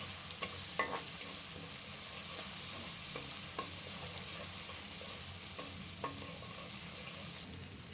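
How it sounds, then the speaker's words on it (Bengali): Ginger-garlic paste with ground turmeric, chilli, coriander and cumin sautéing in oil for a radish and rui fish dish, a steady close sizzle with a few sharp clicks of a spoon scraping the pan. "তারপর মশলাটা একটু কষিয়ে নিলাম"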